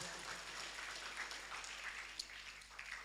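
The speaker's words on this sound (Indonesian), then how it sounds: "tepuk tangan untuk ibu dan bapak guru kita." A crowd applauds the teachers with a steady, even patter of clapping that carries faintly at a distance and holds for a few seconds, with no voices over it.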